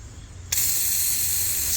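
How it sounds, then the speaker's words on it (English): An adjustable nozzle on a pressurized overland water tank bursts into spraying water after a brief lull, then gives a strong, steady hissing rush that continues to the end. "We're gonna see how far this thing will spray."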